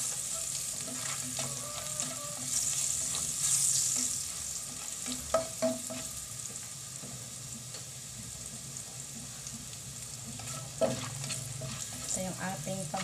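Sauce frying in a hot, already-used pan (kawali) with onions, a steady sizzle running throughout, punctuated by occasional louder stirring scrapes and spatters, fairly close and with no talk.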